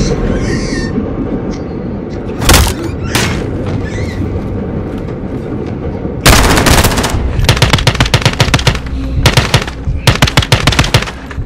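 Video game gunfire from Call of Duty: Modern Warfare, loud bursts of automatic fire and sharp single shots repeating in rapid clusters over a steady rumbling backdrop, growing denser in the second half.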